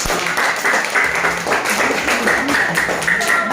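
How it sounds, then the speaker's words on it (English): Schoolchildren in a classroom clap their hands together, a steady sustained patter of many small hands with voices mixed in. "Clap your hands."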